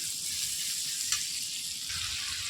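Spice paste fries with a rohu fish head in a pan, a steady close sizzle running unbroken with one small clatter partway through.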